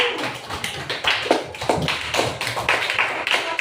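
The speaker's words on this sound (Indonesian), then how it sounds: "Oke, tepuk tangan lagi." A classroom of pupils claps hands together, a dense, fairly loud stretch of sharp overlapping claps running steadily throughout.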